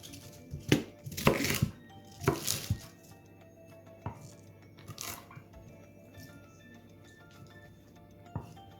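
A knife chops meat into large pieces on a board, several heavy irregular thuds and cutting crunches close up, with quieter gaps and handling noises between the strokes.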